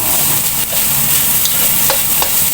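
Vegetables including carrots for lumpiang gulay sizzle in a hot pan while being stirred, a loud, close, steady frying hiss broken by a few light scrapes and taps, with no talk.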